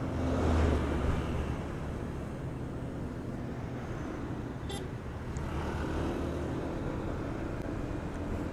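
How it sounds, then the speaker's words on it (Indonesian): Busy road traffic in Gresik with big trucks and other large vehicles, a continuous low rumble of engines and tyres that swells slightly at times, with no talking. "jalannya rame guys. Kena mobil-mobil besar ini."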